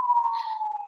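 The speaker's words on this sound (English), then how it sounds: "Sorry if you hear the sirens." A police siren wails steadily from outside on a Philadelphia street, muffled and faint through the walls, with no talk.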